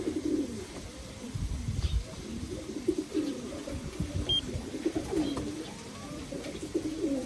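Racing pigeons cooing at their loft, repeated low throaty coos overlapping one another close by, with faint chirps and a brief electronic beep in the background.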